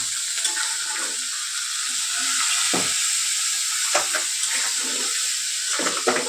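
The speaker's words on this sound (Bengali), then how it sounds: "গরম তেলে ছাড়ার সঙ্গে সঙ্গে কালারটা চেঞ্জ হয়ে গেল এ দেখো ভাজা হয়ে গেছে" Food fries in hot oil during curry cooking, heard as a bright, steady hiss with scattered pops and soft knocks close by, the sizzle running evenly throughout.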